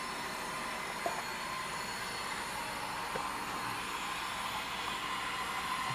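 Steady rolling hum and rumble of an HO scale model train running along track, continuous and fairly even, with faint clicks and squeaks of wheels.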